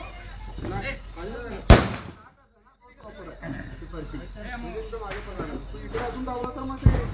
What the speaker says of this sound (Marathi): फटाके फोडतात